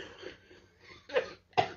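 Two sharp coughs from a man recovering from a cough and sore throat, close and fairly loud after a moment of soft throat sounds, with no talking.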